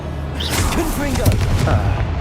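Confringo blasting spell detonations in Hogwarts Legacy, a short run of heavy booming impacts with crackling debris, loud and close, with a voice briefly heard.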